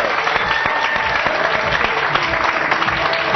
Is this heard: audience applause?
yes